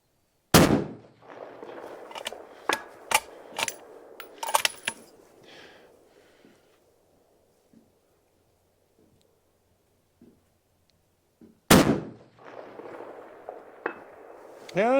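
Rifle gunshots at an outdoor shooting range: one loud sharp crack near the start and another near the end, each followed by a ringing tail, with small metallic clinks and handling noises in between.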